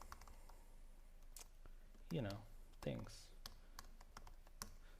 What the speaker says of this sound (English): typing and talking at the same time is really hard